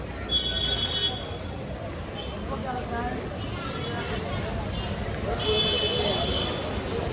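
Rumbling train noise at Dadar railway station in Mumbai, with squealing wheels and a steady mechanical drone, high whines rising and fading.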